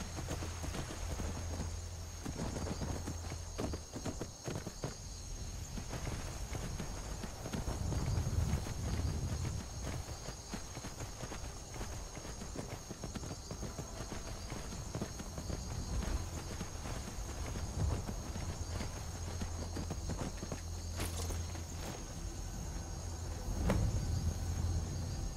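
Horse hooves clip-clop steadily at a moderate, even pace while riding in Skyrim, under a faint constant background hum and insect-like chirping, with no talking.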